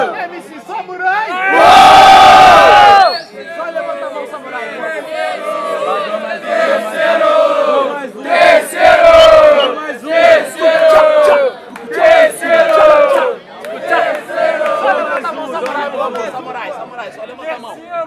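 A crowd at the Batalha do Tanque freestyle rap battle in Lapa, Rio de Janeiro, erupts in a loud burst of cheering and noise, then keeps up dense, rhythmic shouting and chanting voices for the rest of the stretch, close and continuous.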